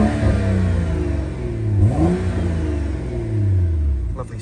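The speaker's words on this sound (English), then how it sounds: "The vehicle does have an aftermarket exhaust, so it does sound pretty good." A 2012 BMW 135i straight-six revs through an aftermarket exhaust, rising from a deep idle to a throaty swell and settling back down, close and loud throughout.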